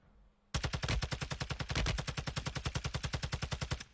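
Automatic gunfire in Warzone 2 erupts after a brief quiet moment, a loud, rapid, evenly spaced burst of shots that runs nonstop for over three seconds.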